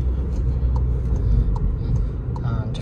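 A manual car's engine idles up at about 2,000 RPM, a steady low drone with a faint rhythmic pulse, heard from inside the cabin with occasional small clicks.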